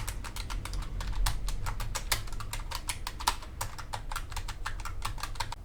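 Steady, rapid typing on a Logitech K813 keyboard, with crisp individual key clicks in a dense irregular rhythm, close and fairly quiet, with no voices.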